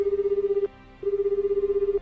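A phone call rings out in GTA 5 as two steady electronic tones separated by a short gap, clear and close with no voices.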